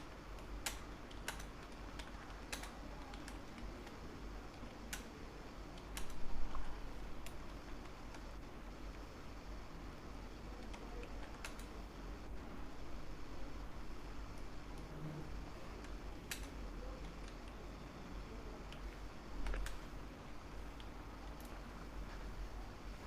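Keys tapped on a computer keyboard in quick irregular runs and single presses, quiet and close, over faint room hum, with no talking.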